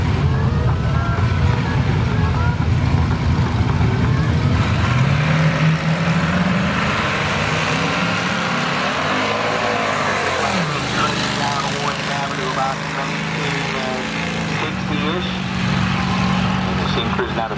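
Drag racing cars running side by side down a dragstrip during qualifying, their engines a loud continuous roar whose pitch rises as they accelerate away, with a commentator talking over the noise throughout.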